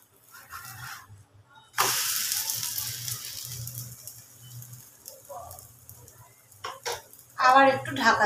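A rice-flour flatbread is flipped in a hot pan with a clatter, then fries with a steady sizzle that rises and falls, with a few clanks of utensils and a brief voice near the end.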